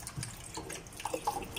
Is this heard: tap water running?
yes